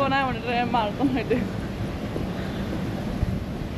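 Wind blows steadily at a Gold Coast beach, a constant rushing buffet against the microphone, with a voice talking briefly at the start.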